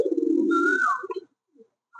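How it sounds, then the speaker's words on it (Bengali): Laksa pigeons, a black pair kept as breeding birds, give a close, clear cooing call lasting about a second, with a warbling rise, then fade into quiet. "খুবই সুন্দর দুটি কবুতর"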